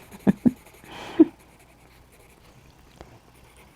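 A pencil drawing a bunny on paper makes a few quiet, short scratchy strokes, with a brief softer scribble between them, in an otherwise hushed room.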